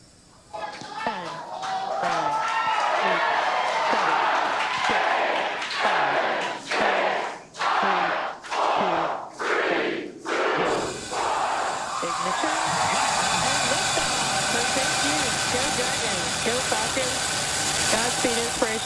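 Crew Dragon rocket launch of the Inspiration4 mission: a loud, sustained roar that swells at liftoff and stays dense and steady, preceded by a series of rhythmic heavy thumps, with a voice speaking over the start.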